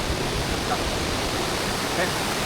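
Water rushes down Pha Phueng waterfall in a wildlife sanctuary, a loud, constant roaring wash that stays even throughout, close and dominant.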